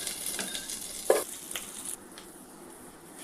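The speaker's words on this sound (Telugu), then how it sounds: "కరివేపాకు, స్లైసెస్గా కట్ చేసుకున్న కొబ్బరి, కిష్మిష్ యాడ్ చేసుకొని దూరగా వేయించుకోవాలి." Curry leaves, sliced coconut and raisins fry in a pan, giving a soft, steady sizzle with a few brief stirring scrapes that quiets after the first two seconds.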